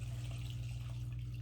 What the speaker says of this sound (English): Okay, pour in the yeast mixture.